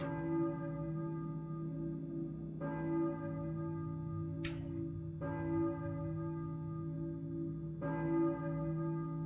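A church bell in the Silent Hill video game tolls four times at slow, even intervals, each strike ringing with a rich, lingering hum that fills the space between strokes, with no talk over it.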